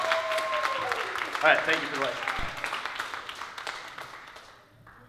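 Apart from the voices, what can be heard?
audience applause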